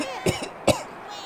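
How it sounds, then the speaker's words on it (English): Two sharp, close coughs, a quick double hack followed by a single louder cough, from a person in a room during play of the Backyard Baseball 2001 video game. "If you have to cough, please sip something."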